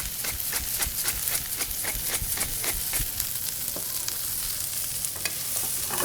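Brussels sprouts fry in rendered bacon fat in a pan, giving a steady close sizzle with crackles and a few stirring knocks and scrapes, with no talk.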